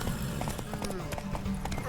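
Horse hooves clip-clopping in the video game The Witcher 3: Wild Hunt, a steady rhythmic trot of hoofbeats close by under ongoing speech, with a brief whinny.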